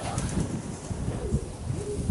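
Pigeons flying in strong wind, with soft cooing and low wind rumble close to a phone microphone, plus faint wing flutters over a couple of seconds.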